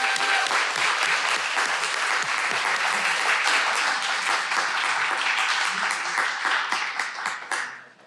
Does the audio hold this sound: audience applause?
yes